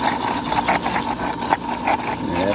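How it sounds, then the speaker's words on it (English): Intex SX sand filter pump running in rinse mode beside an above-ground pool, a close, steady mechanical hum and whir with slight rattling pulses throughout. "Now that's been in rinse mode for about a minute now. I'm going to turn this off."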